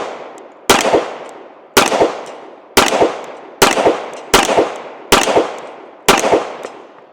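Seven loud, sharp gunshots from a Springfield Emissary 1911 pistol fire at a steady pace of roughly one per second, each crack trailing off in a brief ringing echo before the next.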